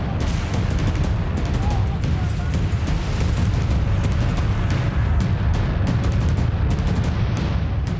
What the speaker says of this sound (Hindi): गोलियां दागी जा रही हैं।